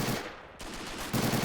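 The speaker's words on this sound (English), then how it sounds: "engaging some German troops up on the high ground with his Thompson submachine gun at a unfavorable range for his weaponry" Thompson submachine gun fire in a WW2 video game battle, dense rapid automatic bursts filling the moment with a brief lull midway, loud and close with battle noise behind.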